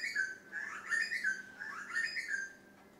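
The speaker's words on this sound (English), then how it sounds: "Wow, what a beautiful bird sound." A bird sings near a beach resort town, giving a few bright, whistled chirping phrases with rising and falling notes. The song is fairly quiet and clear over a soft background, with no talking.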